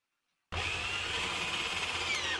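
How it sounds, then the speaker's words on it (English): A power drill drives a screw into a wooden leg of a standing raised garden bed, starting abruptly and whirring steadily and loudly at close range for about two seconds, with no speech. "once we have the pilot holes drilled, we can put the screws in place"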